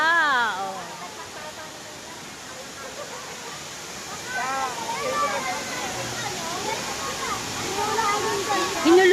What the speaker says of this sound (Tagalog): Hinulugang Taktak Falls.